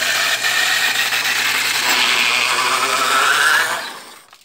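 Homemade PET bottle cutting machine running on an old blender motor gives a steady, close, high-pitched whir that holds for several seconds, then spins down and stops.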